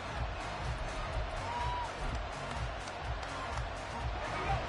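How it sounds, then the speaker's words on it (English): A video game stadium crowd at an American football game between the Browns and the Steelers in Madden 24 roars in a steady, dense wash of cheering throughout, loud and continuous with no clear talk over it. "This crowd turning up the decibel level."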